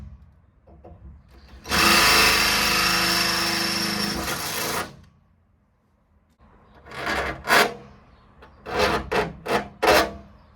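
An 8mm drill bit boring bolt holes for a camper van ladder mount, one long loud grinding run followed after a pause by several shorter rising bursts, close and with no speech.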